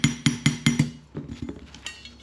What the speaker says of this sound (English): Lots of little taps is better than bang